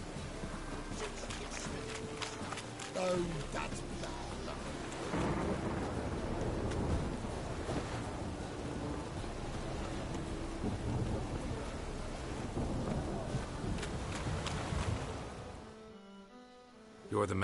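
Steady rainfall with low rumbling thunder fills a stormy scene in The Witcher 3, a continuous wash of rain noise that fades away near the end.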